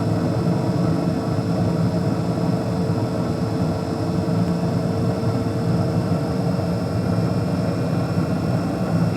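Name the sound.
Carrier Infinity 98 furnace inducer fan ramping up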